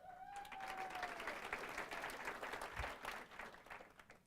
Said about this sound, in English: She brought her own cheering section.